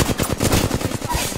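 Rapid automatic gunfire in the video game Apex Legends, a dense, steady burst of shots fired in quick succession, loud and close with no talk.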